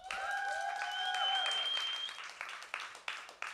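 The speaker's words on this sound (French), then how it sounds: "je vous demande de faire un tonnerre d'applaudissements pour Frédéric Mador" A live podcast audience bursts into applause for a comedian's entrance, a bright sustained clatter of clapping with a few whistles, gradually thinning into scattered claps.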